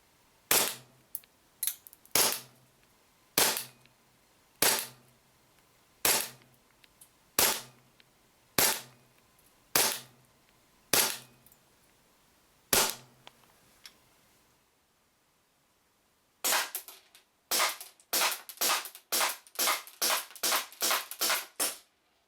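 AEG F18 airsoft pistol fired through a chronograph, sharp snappy cracks: a slow steady run of about fourteen single shots, a pause, then a quicker burst of roughly a dozen shots, close and loud with no talking.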